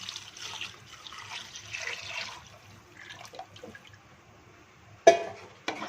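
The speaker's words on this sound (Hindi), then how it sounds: "अब इसमें मैंने जो लस्सी और बेसन बना के रखा है वो इसमें डालती हूँ।" A buttermilk and gram flour mixture for kadhi pakora is poured into a pan, giving a soft, steady liquid rush for about two seconds before fading, followed by two sharp clinks near the end.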